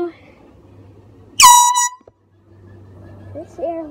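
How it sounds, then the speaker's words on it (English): A very loud air horn blasts once for about half a second, a sustained harmonic honk that cuts off abruptly. Faint talking follows it. "is it really the air horn that's doing that? This thing is really loud."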